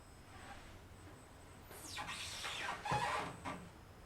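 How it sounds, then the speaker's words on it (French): A door creaks with long, high, drawn-out groans that sweep up and down, rising out of a quiet background and fading after a few seconds. "Ah, c'est la porte qui grince."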